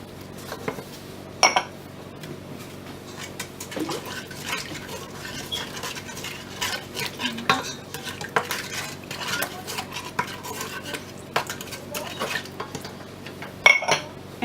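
Yeast, salt and oil stirred with a wooden spoon in a bowl, repeated scraping and knocking strokes with sharp clinks near the start and end, close and moderately loud, no talk.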